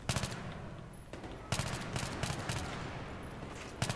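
Bursts of Pro 90 submachine gun fire in Battlefield 3 on a close-quarters map, rapid rattling volleys that pause briefly around the one-second mark and resume loud and sustained to the end.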